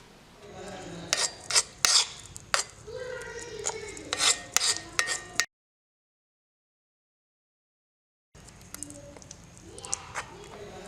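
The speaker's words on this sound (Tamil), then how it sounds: "மருதாணி பொடி, நெல்லிக்காய் பொடி, கடுக்காய் பொடி இந்த மூணையும் போட்டு நல்லா மிக்ஸ் பண்ணிக்கணும்." Henna, amla and kadukkai powders are mixed in an iron pan with rhythmic dry scraping and rasping strokes, then a few seconds of silence, then fainter scraping.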